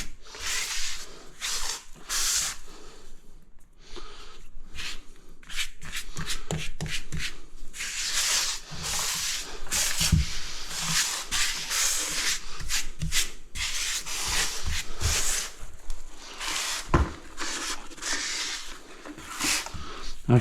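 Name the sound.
wiping grout off porcelain tiles with a wash boy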